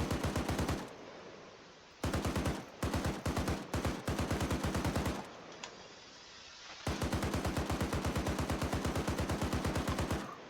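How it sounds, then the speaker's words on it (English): A Browning machine gun fires in the video game Arma 3, sounding as several long, rapid automatic bursts separated by short pauses, loud and close with no talking. "The gunner, the Browning machine gun."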